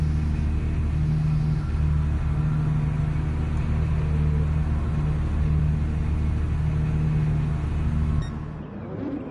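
Steady engine rumble from race cars in a racing video game at the start of an online lobby race on Dragon Trail Gardens, a dense continuous drone with a few rising revs that drops away abruptly near the end.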